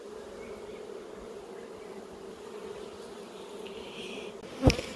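Honeybees buzzing steadily at an open hive, a dense continuous drone up close, with a brief sharp knock near the end.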